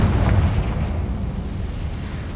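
Confringo spell blast in Hogwarts Legacy, a heavy booming explosion that rumbles loudly at first and then fades into a low sustained roar.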